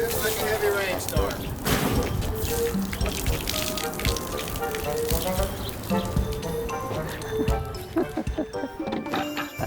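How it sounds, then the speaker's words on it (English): Water thrown onto Sattler marine fabric like a heavy rainstorm, a continuous close splashing and trickling with voices speaking throughout. "for this first test, we'll throw a little water on top, just like it would be if it were raining"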